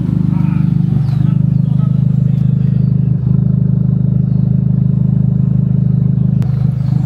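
A Mazda RX-7 with an aftermarket exhaust idles in a steady, loud, low drone, the rotary engine holding an even throb throughout with no talking.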